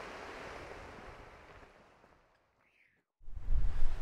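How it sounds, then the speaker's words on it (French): Wind and surf along a stormy coastline rush steadily, with heavy wind buffeting on the microphone despite a windscreen; the roar fades to near silence, then gusts slam back in loud and close. "il y a un peu du vent, même si j'ai mis la bonnette sur le micro"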